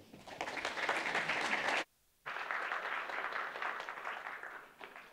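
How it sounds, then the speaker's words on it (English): Audience applause greets a presenter at a talk, full and steady, cutting off briefly into near silence before resuming and fading. "Round of applause, please."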